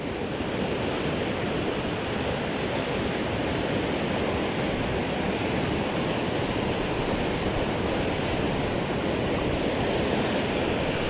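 A river swollen with melting snow rushes through Yosemite National Park, giving a constant, even roar of flowing water with no breaks or voices.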